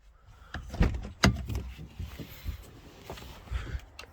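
Car doors on a 2022 VW Touran open and shut, giving a couple of distinct solid thuds and latch clicks, fairly close, with light handling rustle between them.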